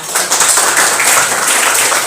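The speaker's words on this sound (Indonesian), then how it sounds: "Tepuk tangan dulu untuk kita" Students in a classroom clap together in a steady, close, continuous burst of applause that lasts about two seconds.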